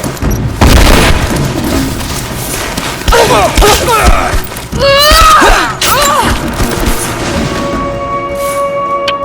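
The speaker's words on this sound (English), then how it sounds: "Throwing a grenade!" A grenade explodes in the video game Rise of the Tomb Raider, giving loud, booming blasts amid ongoing combat noise while in-game voices call out over the chaos.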